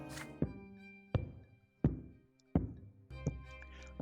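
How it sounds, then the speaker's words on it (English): Footsteps on stairs in a video game, accompanied by a walking stick: five heavy, evenly spaced thumping knocks, each ringing briefly and decaying, with a faint resonant hum underneath. "There is a thumping on the stairs, footsteps accompanied by the knocking of a walking stick"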